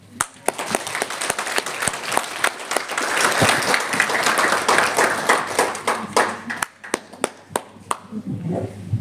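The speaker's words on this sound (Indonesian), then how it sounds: "tepuk tangan sekali lagi teman-teman" Audience applause in a teachers' seminar hall, a dense burst of clapping that swells in the middle and thins to scattered claps at the end, with a brief voice near the close.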